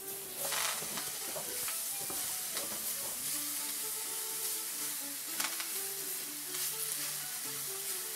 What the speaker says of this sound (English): I'm going to take our greens here and I'm going to wilt them in a little bit of butter in the frying pan.